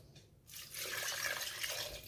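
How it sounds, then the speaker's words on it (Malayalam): Water is poured into a pressure cooker holding halved potatoes, a steady close splashing pour that starts after a brief quiet moment and runs for about a second and a half. "ആവശ്യത്തിന് വെള്ളം ഒഴിക്കുക"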